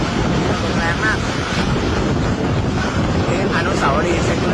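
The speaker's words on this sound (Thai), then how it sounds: "ลมแรงมากเหมือนพายุเข้าเลยครับ" Very strong storm wind roars and buffets the microphone nonstop at a monument, with someone speaking intermittently over the loud gusting.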